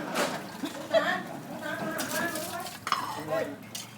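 Dishes and pans being washed by hand, with clinks of crockery and cutlery and some scrubbing, moderately close, while a voice talks over the clatter.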